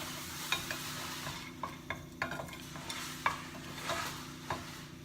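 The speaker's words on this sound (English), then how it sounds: "Go ahead and saute that until fragrant." Aromatics and star anise sauté in a pan for a vegan sweet and sour dish. A quiet, steady sizzle runs under scattered utensil scrapes and taps, repeating every second or so.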